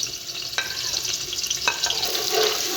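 Onions fry in hot cooking oil in a pot for nalli nihari, a dense continuous sizzle close by, punctuated by a few light knocks and scrapes of stirring.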